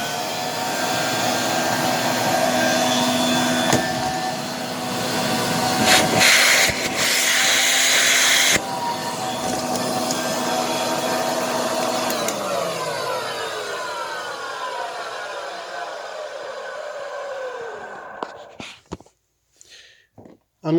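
A Filtex tank vacuum cleaner runs with a loud, steady whine and roar at close range, briefly surging partway through, then its motor spins down with a falling pitch before a few clicks and knocks.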